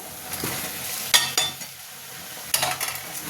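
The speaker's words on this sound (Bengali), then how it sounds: "এবার পটল আলু দিয়ে নাড়বো" Pointed gourd and potato pieces get stirred in a pan of frying masala, a low sizzle beneath two sharp bursts of scraping spoon strokes about a second apart, with no voices.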